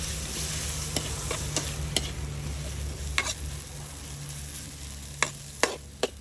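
Tomatoes fry and get stirred in a pan, a steady sizzle with scattered sharp scrapes and clicks of the utensil against the pan.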